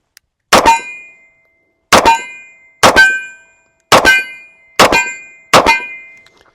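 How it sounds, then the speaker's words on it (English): A Taurus PT-100 .40 caliber pistol firing aluminum-cased ammunition outdoors: six loud, sharp reports at uneven intervals, each with a brief metallic ring, and no speech. "let's see if it'll make it through this whole magazine of aluminum stuff"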